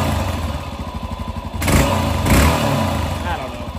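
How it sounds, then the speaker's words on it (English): A carbureted engine, readied for an overland challenge, idles with a steady lumpy rhythm, then two sharp throttle blips swell into loud revs before falling back to idle, close to the microphone. "But if I really blip the throttle fast,"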